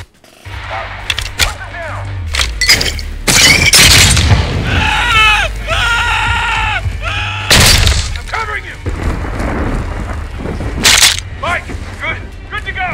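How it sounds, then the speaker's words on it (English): Gunfire cracks and breaking glass ring out in Call of Duty Modern Warfare 2. Several sharp loud impacts rise over a man's agitated speech and a low rumbling background. "How did he shoot me through the windows?"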